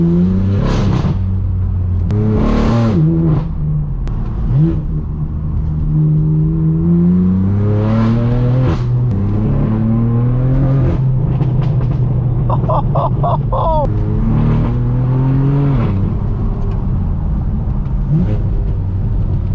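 Straight-piped BMW M4 F82 driven hard through Hollywood streets, its loud exhaust droning and rising through revs, with crackles and pops around the middle, continuous and close throughout.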